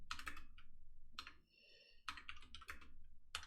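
Bursts of rapid clicking keystrokes on a computer keyboard as code is typed, close and clear, separated by short pauses with a faint hum between them.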